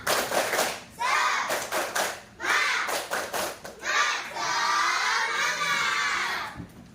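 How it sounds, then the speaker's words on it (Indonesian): Schoolchildren in a classroom doing a rhythmic spirit clap, loud bursts of patterned clapping mixed with children's shouts and chanting voices, ending in a sustained group shout. "Coba tepuk semangat"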